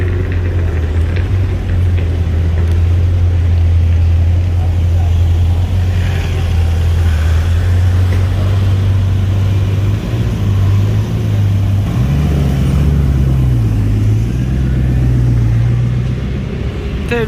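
A 6x6 vehicle drives past on a street in Juan-les-Pins among hypercars, giving a loud, steady low engine drone whose pitch shifts upward partway through, close by the whole time.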